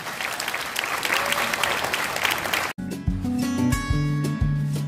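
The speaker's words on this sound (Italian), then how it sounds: "un bel applauso forte" Applause from an outdoor folklore festival audience after a Turkish folk dance group is introduced in Bergamo, Italy, a dense burst of clapping that cuts off abruptly and gives way to loud music.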